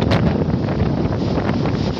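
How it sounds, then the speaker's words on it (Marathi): Strong wind buffets the microphone in heavy rain at an outdoor rod-fishing spot, a loud continuous roaring rush with no pause. "पाऊस खूप वारा परत सुरू झाला आणि पाऊस पण जोरात येतोय आता"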